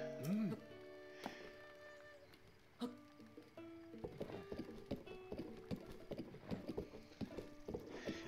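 Horse hooves clip-clop in Breath of the Wild, a steady rhythmic trot building from the middle onward alongside game music tones, with a brief whinny near the start.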